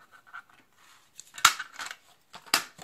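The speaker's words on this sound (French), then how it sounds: "Avec mon petit massicot" Small paper trimmer (massicot) slicing through paper in a crafting setup, a few close, sharp cutting swishes with a louder cut in the middle and another near the end, separated by quiet handling sounds.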